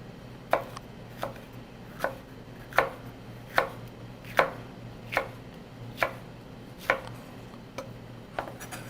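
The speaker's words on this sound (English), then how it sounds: "actually just make them into these slices" Bell peppers are sliced with a knife on a cutting board in a steady, evenly spaced series of about eleven crisp chops, close and clear, with no talking.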